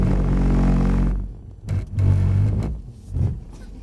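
A Mercedes-AMG C63 saloon being drifted on a track revs hard with a loud, sustained engine roar, then drops away and returns in several short bursts of throttle, close by with no talking.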